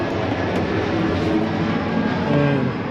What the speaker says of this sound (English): sorry about the jet going overhead.